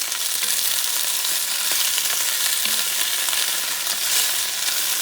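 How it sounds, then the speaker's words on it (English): Shrimp sizzle loudly in a cast iron pan, a dense, even frying hiss that holds steady throughout with faint pops, close up and with no one speaking. "I'm going to start giving it a nice looking color to the shrimp."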